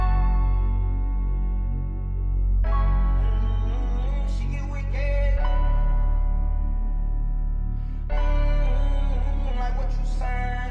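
The bridge section of a hip-hop beat made in FL Studio, with a deep sustained bass, rhythmic drums and effected melodic layers that shift every few seconds, with no vocals.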